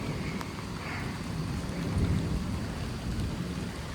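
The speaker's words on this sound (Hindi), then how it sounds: "अब तेज बारिश होने लग गई।" Heavy rain starts in the mountains as a low, steady wash of rainfall and wind rumble, fairly faint and distant, swelling slightly midway. No voices.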